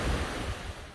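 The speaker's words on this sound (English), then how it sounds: "I apologize for the water noise behind him" Steady rushing water roars beside the historic Bridgeton water-powered mill, a loud, continuous broadband wash with no pauses, close to the microphone.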